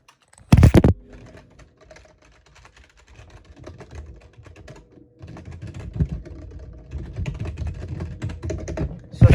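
Fast typing on a computer keyboard, with dense clusters of close key clicks in uneven bursts, a couple of louder thumps and a brief pause midway.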